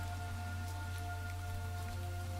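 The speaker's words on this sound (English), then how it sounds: "It's raining." Minecraft rain patters steadily as a faint, even hiss, with a constant low hum running underneath.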